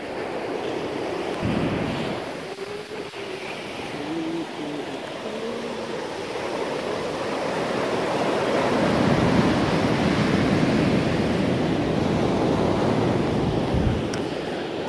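Ocean waves breaking close to shore, a roaring surf wash that builds and swells through the middle and end, mixed with wind buffeting the microphone.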